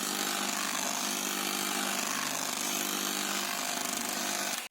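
A mixer grinder blends pineapple cake batter with a loud, steady motor whir and rattling jar that runs unbroken for several seconds before cutting off abruptly at the end.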